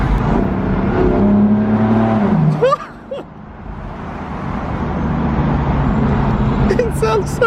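A BMW M4 F83 engine idles and revs with a steady low rumble, dropping off briefly midway before settling back to a continuous hum, while a voice speaks over it near the end.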